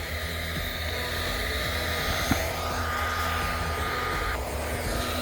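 A heat gun or hair dryer heats a dented car panel with a continuous, steady blowing roar, close and unbroken apart from one brief tap midway.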